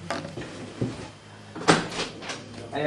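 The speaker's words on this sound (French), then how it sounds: "j'ai Adrien en fait qui tape à la porte, je vais lui ouvrir." Indoors, a door is handled and opened to let a visitor in, with several clunks and knocks, a sharp latch-like clack in the middle and shuffling movement around it.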